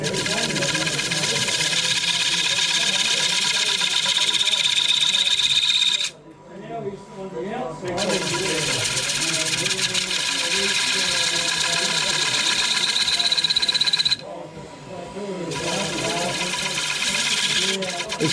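A wood lathe spins a bowl while a 6mm mini bowl gouge cuts a series of beads along its top, a continuous whirring drone with scraping cutting noise, broken by two short pauses where the tool lifts off.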